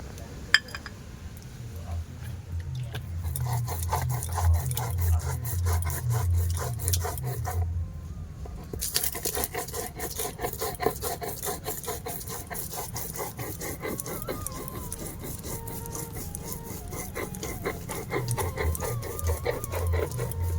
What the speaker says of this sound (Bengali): পোস্ত, কাঁচা লঙ্কা একসাথে শিলনোড়ায় বেটে নেব।